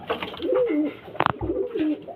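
Pigeons of many kinds in a loft with breeding pairs give repeated low, throaty coos close by, with a brief sharper rustle partway through.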